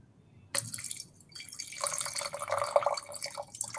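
Wine streams from a gas-triggered dispenser after a press, a steady liquid pour that starts abruptly, eases briefly, then flows more strongly, close and fairly quiet.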